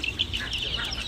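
Chickens, a rooster and hens, cluck at a pet store in Hyderabad, with overlapping short, squawky calls that are close and continuous against a steady background hum.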